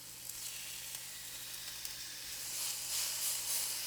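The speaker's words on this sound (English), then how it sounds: "I'm going to sear them. I'm going to put them on the grill." Steady sizzle of salted and peppered meat searing on a grill for a Sunday supper, a broad continuous hiss that swells slightly louder toward the end, with no voices.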